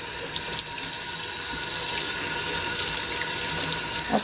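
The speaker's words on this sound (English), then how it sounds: "I'm just going to rinse off our blocks." A kitchen tap runs steadily as rubber stamp blocks are rinsed under it after scrubbing, a continuous close splashing hiss of water hitting the sink with no talking.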